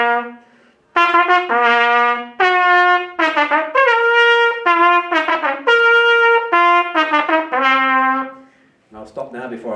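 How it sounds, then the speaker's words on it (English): A plastic trumpet blown by a beginner, a string of loud, buzzy, wavering notes in short bursts with brief gaps, ending in a rough breathy tail. "I don't play the trumpet, I sound quite bad, but it sounds something like this."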